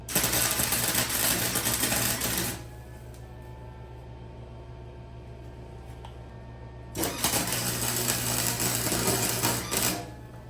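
A MIG welder crackles and buzzes in two long bursts, several seconds each, with a quieter hum between them, while tack welding a turbo LS hotside pipe for a boxy Chevy Impala.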